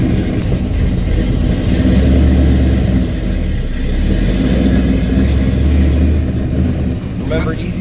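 A Chevrolet K20 flatbed truck engine revs hard and accelerates with a loud, steady low rumble that holds for several seconds, with people talking over it inside the cab.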